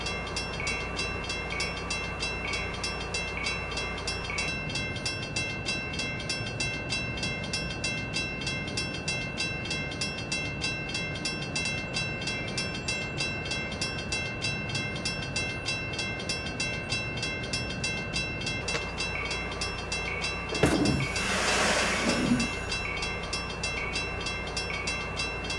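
Passenger train in Train Simulator 2015 on the Aurora to Chicago route departing Downers Grove Main Street, a steady rumbling run with rhythmic rail clatter throughout and a brief loud horn-like blast near the end.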